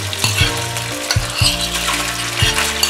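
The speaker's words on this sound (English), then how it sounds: "Put in the fish and the shrimp" Fish and shrimp dropped into a hot wok for chow ho fun flat rice noodles, giving a loud continuous close sizzle and hiss with a few sharp bursts as pieces land, no voices.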